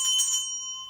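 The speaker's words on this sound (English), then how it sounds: "Those bells are nice," A bell rings out with a bright, sustained tone, its clear overtones ringing steadily and slowly fading over under a second, close and alone.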